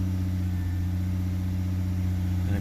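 A 2013 Nissan Murano engine idles steadily with a low, close drone after carburetor cleaner was sprayed into the throttle body, a constant hum that stays even for the few seconds heard.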